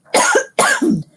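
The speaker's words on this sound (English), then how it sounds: "Talking in a funny voice for Uncle Andrew's making me cough." Two sharp coughs in quick succession, close and fairly loud.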